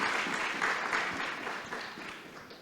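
Audience applause and clapping at a talk about Bangalore, steady and full for nearly three seconds, then thinning slightly toward the end with no voices over it.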